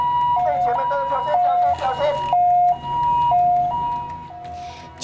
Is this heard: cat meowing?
no